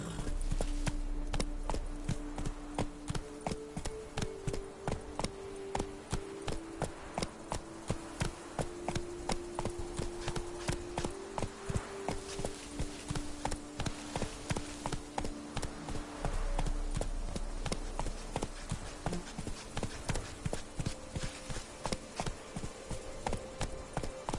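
Horse hooves clip-clop steadily on the ground in The Witcher video game, a continuous rhythmic trot close by, with faint buzzing insects and a low ambient hum underneath.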